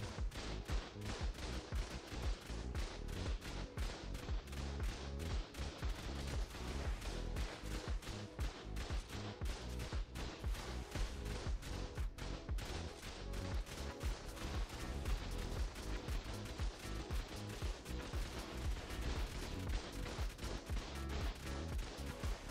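A floor turret in the game Ark fires nonstop in a rapid, even stream of sharp cracks, quiet and somewhat distant, continuing steadily for over twenty seconds with no talking over it.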